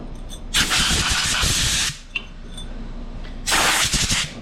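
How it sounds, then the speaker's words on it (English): An air compressor in a workshop runs loud and steady in two long hissing bursts, the first about one and a half seconds and the second starting near the end, with a quieter rumble between them. "Thought I turned that compressor off, but I guess I didn't."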